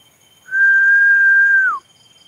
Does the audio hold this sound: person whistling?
yes